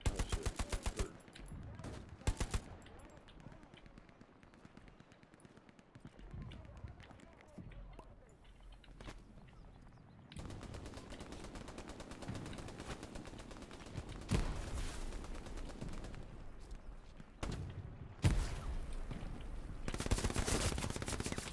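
Bursts of automatic and single-shot gunfire in the World War II shooter Hell Let Loose during a battle for Stalingrad, loud and near in spells with quieter gaps, while players talk over it.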